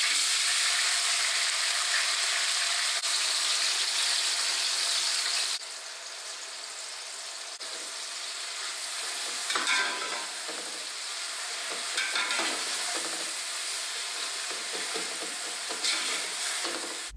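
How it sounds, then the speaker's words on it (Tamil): Sliced onions fry in hot oil for a mutton biryani, a steady close sizzle with scraping stir strokes that ease slightly after a few seconds, no voices present. "வெங்காயம் நல்லா கோல்டன் ப்ரௌன் கலர் ஆகிற வரைக்கும் இதை நல்லா வதக்கிக்கலாம்"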